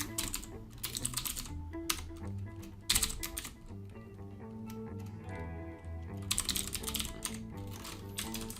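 Name being typed on a computer keyboard, with rapid bursts of close key clicks separated by short pauses.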